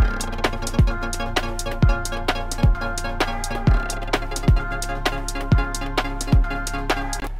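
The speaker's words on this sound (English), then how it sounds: "So the sub I'm using here is from SubLab." Deep sub bass synth from SubLab locked to an electronic rave kick pattern, each low swell accenting a kick hit in a steady loop, with ticking percussion above, loud and close with no talking.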